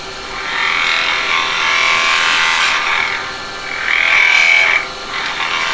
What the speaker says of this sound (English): I'm going to come in here just with some carnauba wax.